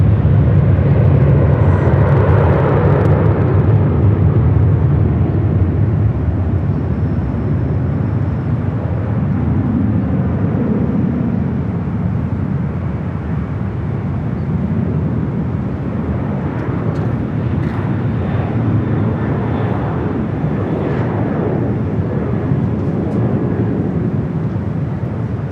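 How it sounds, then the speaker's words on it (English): A Delta Boeing 737-800 departs runway 24 left at LAX with a loud, deep jet rumble that starts strong, eases slightly, then surges again with crackling roar as the airliner climbs away. "Delta Airlines 1714 taking off to Seattle"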